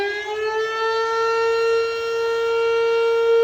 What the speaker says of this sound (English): We're talking about Minden's SIREN, which state lawmakers are pushing to get rid of.